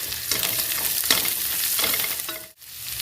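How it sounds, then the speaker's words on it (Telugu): Cumin seeds fry in hot oil in a pan with a steady, close crackling sizzle and occasional stirring scrapes, which break off briefly near the end. "1 స్పూన్ జీలకర్ర వేసి బాగా ఫ్రై చేసుకోవాలి."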